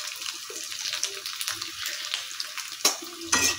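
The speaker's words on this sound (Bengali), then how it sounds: "একটুখানি পাঁপড় ভেজে দাও" Papad frying in a pan, a bright crackling sizzle with bursts of spatula stirring and two louder sharp scrapes toward the end, quiet and close with a voice speaking in the background.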